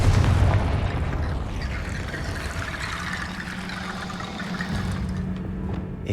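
A Confringo blasting spell goes off in the video game Hogwarts Legacy inside a goblin mine, giving a loud low boom up front that settles into a sustained rumbling roar with a steady low hum.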